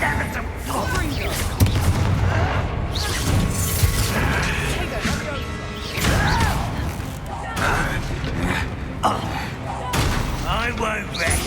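Confringo fire spell explosions in the Hogwarts Legacy video game, heavy booms and crashing blasts repeating amid combat clatter, mixed with loud voices talking and shouting.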